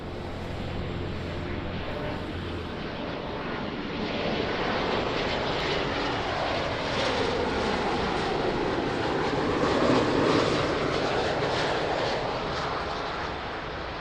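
Jet airliner engines roar at Lisbon Airport, a loud broad rush that swells as the aircraft passes nearby and then slowly fades over several seconds.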